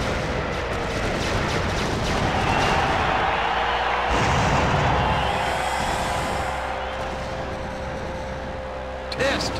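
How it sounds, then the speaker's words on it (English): Dense barrage of explosive rocket fire and engine roar in the WWE Crush Hour vehicle combat game as Twisty Rockets are launched, a constant loud rumbling wash with game music and no clear breaks. "Edge just picked up the Twisty Rockets. Attacking with all guns blazing"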